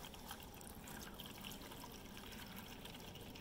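Water runs steadily from the outlet of a 12 volt submersible pump lowered 75 feet down an abandoned well, a continuous close splashing flow with no pauses and no talk.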